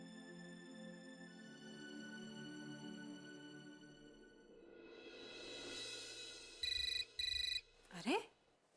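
A telephone rings in two short, bright electronic bursts near the end, following soft sustained background music in a domestic drama scene.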